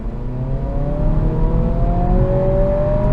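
A 2023 Acura Integra A-Spec with a CVT launches hard from a torque brake at about 2300 RPM, its engine drone rising steadily in pitch as the car pulls away, loud and continuous with no talking.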